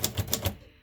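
Three crisp keystrokes on a Royal Quiet De Luxe manual typewriter from the early 1950s, evenly spaced and close, each a sharp metallic clack with a low thump, then quiet.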